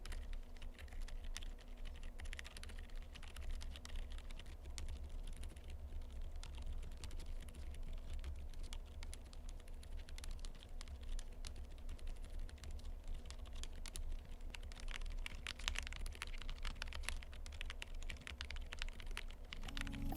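Continuous rapid typing on a quiet-switch Hansung TFG Cloud CF mechanical keyboard, soft muted clicks in an unbroken stream, faint and close, with low background hum.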